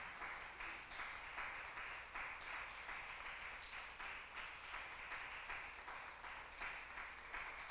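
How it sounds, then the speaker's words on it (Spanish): Worshippers at a church service clap for Jesus Christ, soft rhythmic group applause heard from a distance that keeps an even beat throughout. "¿Por qué no le da un aplauso al Señor Jesucristo?"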